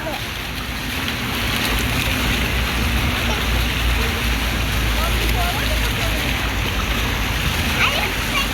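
Water from a public fountain splashes and rushes in a continuous loud wash, with voices faintly mixed underneath.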